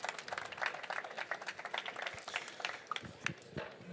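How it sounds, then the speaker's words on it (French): Audience applause for a presenter at a pitch session at an impact summit: dense, continuous clapping from a crowd, moderately distant and even throughout, without speech. "On peut l'applaudir, s'il vous plaît."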